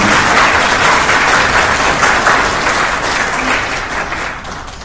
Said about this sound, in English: join me in a well-deserved round of applause for our highest students